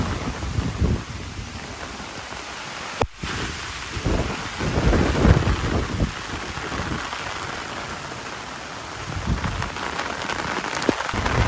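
Heavy downpour pounding surfaces with gusting wind, a sharp thunder crack near the start and rumbling swells throughout; steady, loud, close storm noise with no voices.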